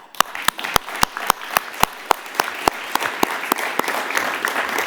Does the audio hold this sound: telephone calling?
no